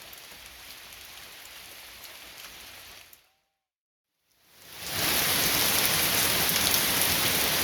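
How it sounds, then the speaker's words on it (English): Steady rain hisses on a surface, cuts out to near silence for about a second, then returns much louder and heavier; no distinct thunder stands out. "I have rain. And a little thunder."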